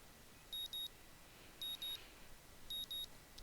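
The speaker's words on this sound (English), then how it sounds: "My morning alarm goes off" Alarm clock in the Katawa Shoujo visual novel beeping in three evenly spaced pairs of short, clean electronic tones over a faint, steady background hiss.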